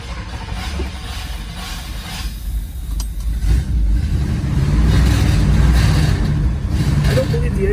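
A 1960 Lincoln Continental Mark V convertible's engine is started partway through; a quieter stretch gives way to a louder, sustained running rumble that carries on to the end.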